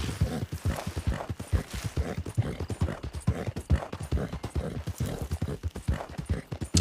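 Horse hooves in a hunting video game clip-clop in a steady, close, rhythmic walking pattern throughout, fairly loud and continuous with no talking over it.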